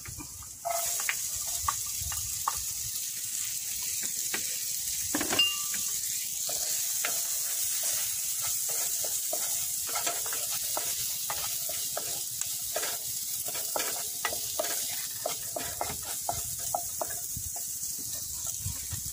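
White onion sizzling steadily in hot oil as it is stir-fried for snail sisig, a continuous bright hiss with frequent scraping and clinking of a spatula against the pan, close and fairly loud throughout.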